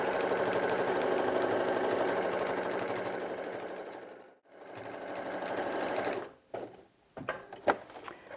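A sewing machine stitches over the strap of a thick, bulky hessian bag, running in a steady loud burr, pausing briefly midway, then stopping with a few knocks and clicks of handling.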